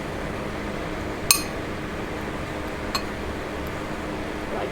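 A utensil stirring a sweet, smoky sauce in a glass container in an outdoor kitchen, with one sharp clink and a second softer one against a quiet background hiss.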